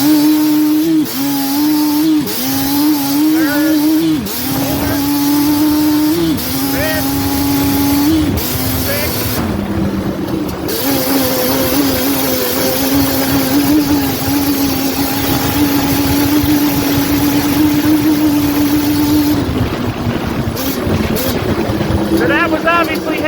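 A Yamaha Banshee two-stroke ATV engine runs loudly throughout, its tone rising and falling as it goes through the gears, with someone talking over the steady drone.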